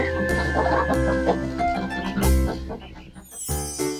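Chickens clucking and squawking close by, busy overlapping calls with a louder burst midway, over a soft background of farmyard noise.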